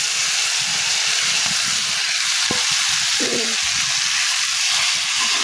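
Boiled jackfruit seeds and potatoes sizzle steadily in a pan with oil and reddened garlic and onion, a loud continuous frying hiss with a single brief clink partway through and no talking.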